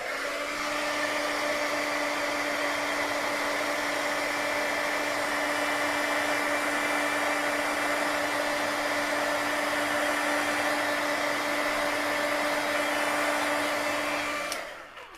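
A craft heat tool blows hot air across a note card in one steady, loud, close whirring hum with a fixed tone that runs without a break. It stops abruptly at the end.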